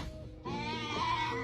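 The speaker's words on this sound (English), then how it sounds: "a goat that somehow managed to get itself stuck in a tub of water" A goat stuck in a tub of water lets out a loud, wavering bleat up close, after a brief lower-pitched cry just before it.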